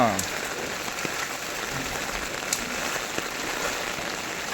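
Steady rain during a windy storm patters on a surface in a continuous, even hiss, with occasional louder drops standing out.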